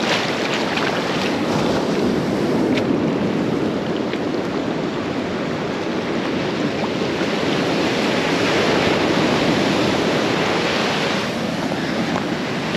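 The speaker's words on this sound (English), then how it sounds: "Here's a little current of the outfall." Water from a beach outfall at Panama City Beach, Florida, runs toward the Gulf of Mexico as a steady, loud rushing wash mixed with surf and wind buffeting across the whole stretch.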